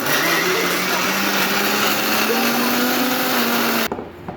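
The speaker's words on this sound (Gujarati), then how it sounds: "હવે આપણે એને મિક્સરમાં મૂકી દઈશું. હવે એની સ્વીટ ચાલુ કરી દઈએ. હવે એને છે ને ગ્રાઇન્ડ કરી દઈએ." A mixer grinder grinds sprouts with garlic into batter, giving a loud, continuous whirring motor roar that runs steadily for about four seconds and then stops abruptly.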